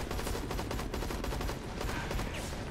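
Rapid bursts of gunfire in the shooter game Hazard Ops, fairly faint and continuous, with dense rattling shots layered over a noisy battle background and no speech.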